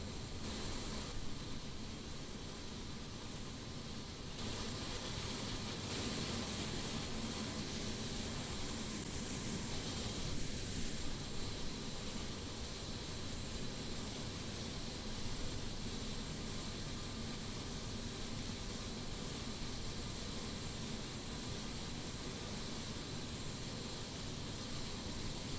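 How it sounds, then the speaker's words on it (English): In Microsoft Flight Simulator 2020, the Antonov An-225 Mriya's jet engines spool up and settle into a steady, loud, broadband roar with a thin high whine, running unbroken and alone throughout. "that should start up all the engines"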